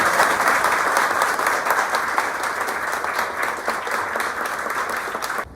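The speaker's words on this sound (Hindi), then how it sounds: "एक बार अभिषेक के लिए जोरदार तालियों से स्वागत।" A room of students gives Abhishek a loud round of applause, dense and continuous clapping that stays strong from start to finish before easing off at the very end.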